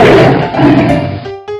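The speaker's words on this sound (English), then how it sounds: "tiger," A tiger gives a single loud, rough roar lasting about a second, close and harsh, followed by a brief tonal tail.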